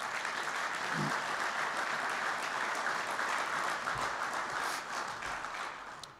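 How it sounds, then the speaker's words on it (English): An awards dinner audience applauds a Marine quintet and Color Guard, a sustained wash of clapping from many hands that holds steady and fades near the close. "A round of applause for them, please."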